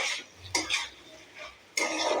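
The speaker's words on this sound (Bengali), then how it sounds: "তারপরে 5 মিনিট কষাতে থাকুন।" Spices being stirred and sautéed in a pan for a rohu fish curry with taro and potato, heard as a few short scraping strokes with soft sizzling between them, close by.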